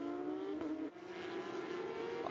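Porsche Carrera Cup race cars streak past on a circuit in Zhuzhou, a steady loud engine roar with a brief dip as one car passes and another follows close behind.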